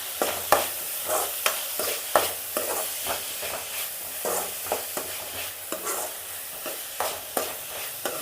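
Onions sautéing for a paneer gravy, stirred in a pan with a steady sizzle and regular scraping strokes of a spoon, close and clear with no talking.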